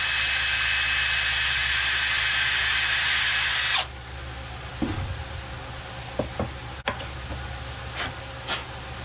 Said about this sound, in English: But now I'm going to drill them out to accept this.